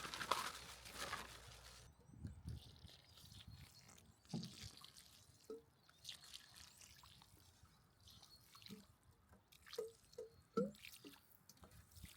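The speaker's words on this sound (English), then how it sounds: "The water's pooling up round the top, so I got a bit of rebar and gave it a good poking round to make sure it's percolating all the way down." Water drips and trickles down into a freshly dug gatepost hole after the hole has been poked with rebar. Sparse, faint drips and small gurgles sound quietly against soft outdoor background noise.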